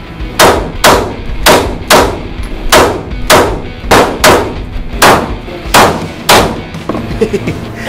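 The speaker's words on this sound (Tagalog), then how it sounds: "Firing. Firing." Gunshots at a shooting range crack out one by one in a steady rhythm, about a dozen loud, close reports with short echoing tails between them.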